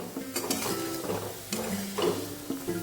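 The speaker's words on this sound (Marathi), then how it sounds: "आता आपल्याला शेंगदाणे पूर्णपणे खुसखुशीत होत नाही तोपर्यंत सतत हलवत राहायचं आहे" Salted peanuts roast in a pan while being stirred continuously, producing close, rhythmic scraping and rattling with metallic clinks as the nuts tumble against the pan.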